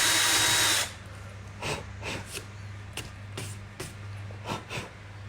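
A power drill whines loudly at first as a small bit bores through pine, then stops, followed by scattered knocks and scraping of wood being worked nearby.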